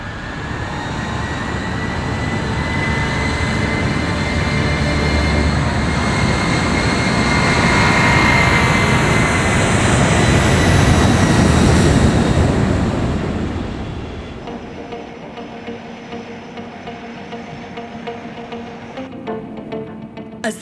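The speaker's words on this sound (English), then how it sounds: "As the giant aircraft heads southeast" A giant airliner flying southeast on the world's longest flight along the Kangaroo route gives a steady, broad jet roar that holds for about fourteen seconds, then drops to a quieter, even drone.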